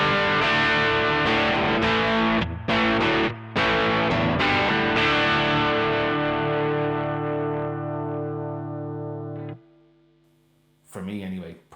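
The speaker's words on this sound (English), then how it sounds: "I've just switched over to the dirty channel on the amp." 1972 reissue Japanese-made Thinline Telecaster through the amp's dirty channel, gain at midpoint: distorted chords struck with short gaps, then one sustained chord ringing and decaying, and a brief burst of playing at the end.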